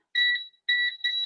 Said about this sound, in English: And I'm putting my timer on for 40 minutes